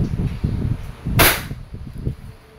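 A WE Glock 17 F-Series airsoft pistol with silver slide and black frame fires a single sharp, close crack, surrounded by low rumbling handling noise.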